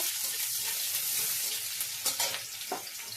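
Bay leaf, green chili and chopped onion sizzle steadily in hot oil in a pan, with a few scraping stirs of a spoon near the end, close and continuous.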